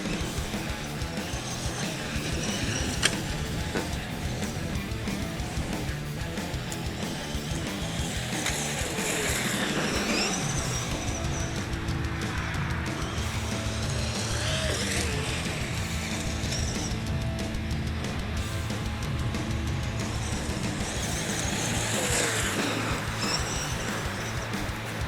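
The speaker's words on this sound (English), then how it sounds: "Some more full speed here. Extended full speed runs." Traxxas X-Maxx RC car fitted with a Tekin RX8 Gen2 speed controller, run at sustained full throttle outdoors, giving a steady loud motor whine and wheel rush that rises and falls with passes, with no talking.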